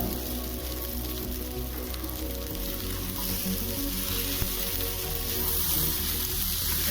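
Kanda poha frying in a pan, a steady close sizzle with faint stirring scrapes running continuously without talk.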